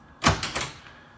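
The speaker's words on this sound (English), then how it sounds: "I'm gonna open the door, make a sound, and just see how he reacts." A door is opened indoors, giving a short cluster of three close knocks and rattles that fade quickly into quiet.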